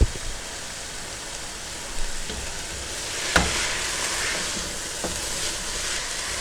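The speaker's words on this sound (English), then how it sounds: "So now you can hear it frying." Supermarket mince frying in a pan on a home stove, a steady broadband sizzle with a few sharper pops and crackles, close and moderately loud with no talk.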